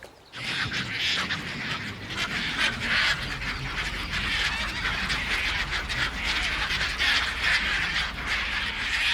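A large nesting colony of royal terns and Caspian terns on a mangrove island in Senegal's Saloum Delta, a dense, continuous chorus of harsh calls from many birds, loud and unbroken throughout.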